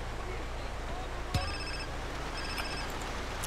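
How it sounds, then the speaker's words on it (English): A phone rings in the video game GTA San Andreas. Two short electronic ring bursts sound over a steady background hum, with a sharp click just before the first. "I think the phone's probably going to ring again"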